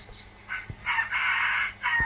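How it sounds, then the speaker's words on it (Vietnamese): A jungle fowl crows at a bird farm in the countryside, several short, bright calls in sequence, fairly close and clear against a quiet background. "Đó, tiếng gà rừng ấy."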